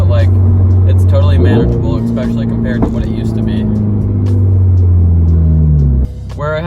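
Subaru BRZ fitted with a custom straight-pipe exhaust drones steadily while driving, a loud, constant low engine tone that shifts pitch slightly before dropping away near the end.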